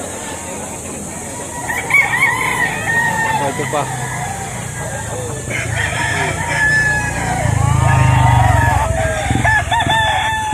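Roosters crow repeatedly among clucking chickens at a bustling poultry market in Lipa, Batangas, loud and close with several birds overlapping and people talking throughout.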